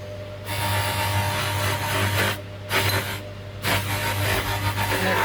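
Steady whirring of a polishing wheel buffing an opal ring at a jeweller's bench, a continuous mid-level drone with brief gaps where the piece is lifted away, no talking.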